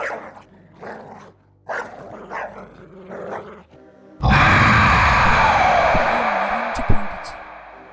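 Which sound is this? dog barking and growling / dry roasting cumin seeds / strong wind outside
dog barking and growling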